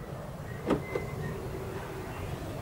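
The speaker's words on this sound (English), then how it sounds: "To lock, just simply press this button on the door handle." A 2015 GMC Yukon SLT door locks from the button on the handle, giving a brief click-and-thunk at close range and then a softer second click, both over a quiet outdoor background.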